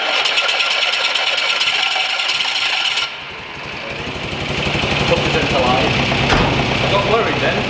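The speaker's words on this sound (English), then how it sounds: "we're just going to turn the engine on so everything cycles through" A 1980 VW Rabbit Pickup engine turns over and settles into a steady, close idle, with a brief dip in level before the running engine picks back up, and some shop noise in the background.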